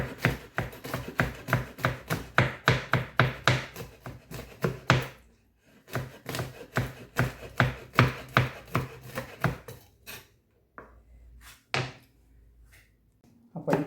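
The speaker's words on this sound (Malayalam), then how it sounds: "പച്ചമുളകും ഇഞ്ചിയൊക്കെ നമുക്ക് ഇങ്ങനെ ചെറുതായിട്ടൊന്ന് അരിഞ്ഞെടുക്കാം" A knife chops green chillies and ginger rapidly and rhythmically on a board, a quick run of crisp strokes, a short pause, then another burst of chopping.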